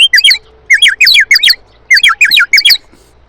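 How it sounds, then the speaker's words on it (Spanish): A goldfinch sings loud, close, rapid bursts of high twittering chirps in several quick phrases separated by short pauses, with no talk. "por ahí te respondió un jilguero"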